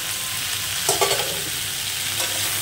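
Fish curry of rohu with ridge gourd, turmeric and green chilies sizzles steadily in a pan, a constant frying hiss with a few brief louder stirring scrapes, close and continuous.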